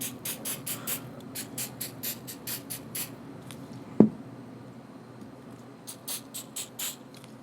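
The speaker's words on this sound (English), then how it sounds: "I'm going to spray this frame down and clean it off" Short bursts of cleaner sprayed onto a Smith & Wesson revolver frame in quick clusters, a pause broken by one sharp tap, then more rapid spritzes near the end.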